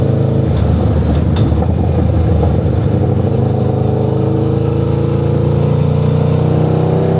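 Aprilia RSV4 Factory superbike engine accelerating hard, a loud, close, continuous roar with rising pitch heard from the rider's position, with wind rush in the background and no talking.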